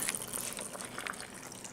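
Salt-water brine pours into a jar of fermenting hot sauce ingredients with a soft, steady trickle and light splashing, fairly faint and close, no talk.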